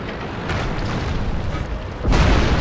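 A tank blowing up in World of Tanks, a rumbling explosion under sustained battle noise that swells into a louder deep boom near the end.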